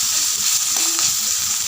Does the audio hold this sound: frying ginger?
yes